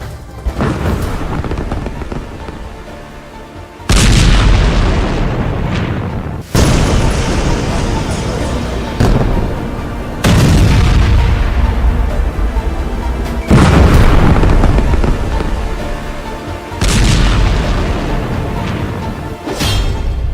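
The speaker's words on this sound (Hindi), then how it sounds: "बेरूत में 200 धमाके" A series of heavy, booming explosions from airstrikes in Dahiyeh, Beirut, each a loud sudden blast that decays slowly, repeating every few seconds over a rumbling background.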